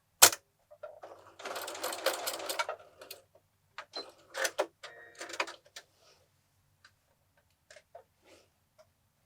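A home sewing machine stitches a quilted place mat in two short whirring bursts, with a few scattered clicks and taps in the quiet between runs.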